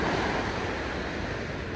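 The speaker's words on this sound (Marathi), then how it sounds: "समुद्राच्या लाटा येत आहेत." Sea waves roll ashore in a steady, loud wash of surf near Malabar Hill, Mumbai, with wind buffeting the microphone throughout.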